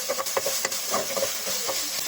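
A utensil stirs flaked fish in a pan, with irregular scraping clicks over a steady background sizzle.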